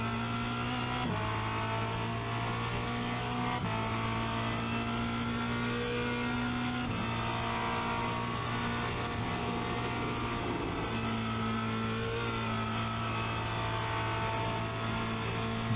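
A Formula Renault 2.0 race car accelerating around Spa Francorchamps, its engine droning loud and close from the cockpit as it climbs through gear changes with brief dips between shifts, steady throughout.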